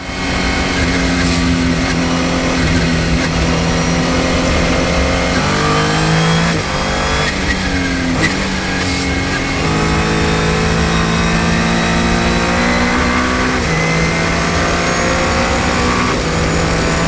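Race cars on a circuit during a Saturday warm-up session at a GT endurance race, loud engines revving and shifting continuously, with a dominant nearby car pitching up and down through gears and others blending behind it.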